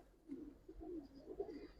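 Silver Giribaz pigeons coo in a soft, low, rolling run of repeated murmurs, fairly close and steady, with no talk.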